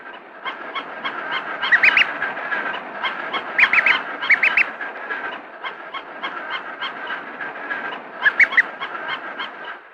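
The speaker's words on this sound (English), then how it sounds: "It peeps contentedly" An imprinted duckling peeps contentedly, with a steady stream of close, high, rapid chirps, a few brighter bursts standing out, and no talking.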